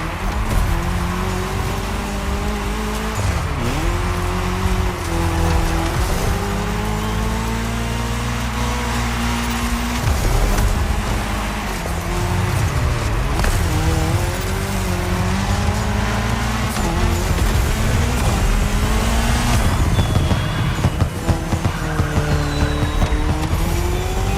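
Race cars roar in The Crew Motorfest on PS5 during a Red Bull Speed Clash cross-terrain race, with a loud, continuous engine drone, shifting revs and occasional tire squeal close up.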